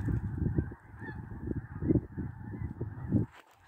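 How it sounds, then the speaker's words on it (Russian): A flock of geese in flight in Nebraska honking repeatedly, overlapping calls in a rough rhythm, faint and somewhat distant. "Это явно гуси какие-то."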